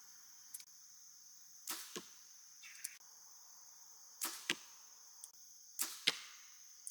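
Several arrows released from a bow, each a sharp whoosh and thump, spaced a second or two apart over a faint steady high-pitched background hum.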